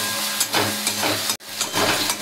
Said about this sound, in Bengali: আদা বাটা রসুন বাটাটা একটু ভাজা ভাজা হবে।